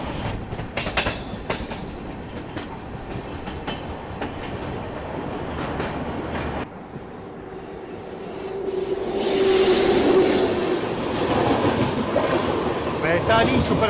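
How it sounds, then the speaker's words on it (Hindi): Vaishali Superfast Express, an Indian Railways train, running on the rails: a steady close rumble and rattle of wheels and carriages with squealing wheel tones rising later, while someone talks over it. "ये वैशाली सुपरफास्ट एक्सप्रेस।"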